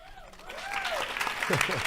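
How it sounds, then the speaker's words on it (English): An audience claps steadily in a dense wash of applause, with voices and a few whoops rising over it. "we can do some applause"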